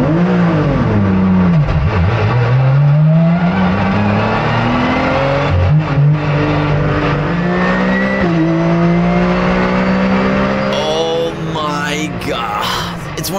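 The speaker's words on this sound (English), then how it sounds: "listen to the music of this car" A Porsche GT4 race car engine at the Misano circuit, loud and close, revving up through gears in rising sweeps with brief drops between shifts, a sharp high-pitched burst near the end.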